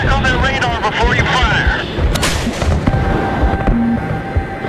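Guided missiles streak away toward SAM sites in Battlefield 3, a loud rumbling launch roar with a sharp burst midway, mixed with radio-style speech over dense combat noise.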